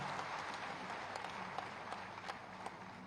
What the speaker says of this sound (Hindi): माननीय मुख्यमंत्री जी का एक बार जोरदार तालियों के साथ अभिनंदन वंदन स्वागत